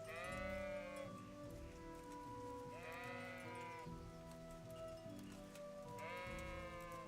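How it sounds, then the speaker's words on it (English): Sheep in a video game bleat in three long, wavering cries spaced a few seconds apart over a steady, rain-like background hum. "Or are we really gonna fight with the sheep?"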